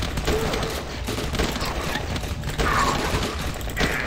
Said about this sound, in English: Who would have thought a hunting rifle would be so OP in this game?